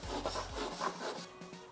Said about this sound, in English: Get yourself a little wire brush and just go along all the edges